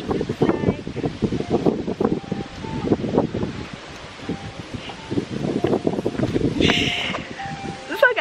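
Wind gusting outdoors against a microphone, buffeting in uneven bursts with rustling, while someone talks close by throughout.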